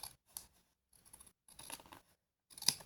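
Scissors trim overhanging paper on a scrapbooking page, making quiet, close, crisp snips and slicing scrapes in several short bursts separated by pauses.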